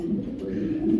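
Red Tiger Mundian pigeon, a male, gives a low soft continuous coo, close and clear with little else around it.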